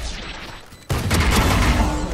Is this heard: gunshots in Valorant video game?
yes